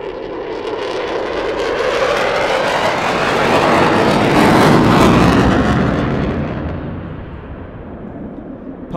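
An F-16 fighter jet passing at an airshow, a loud broadband jet roar that swells to a peak midway and then fades as it moves away.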